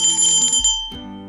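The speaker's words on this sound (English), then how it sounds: "So this is my little bell that I got from the Dollar Tree" A small bell rings brightly twice in quick succession, each chime ringing out and fading, close and clear.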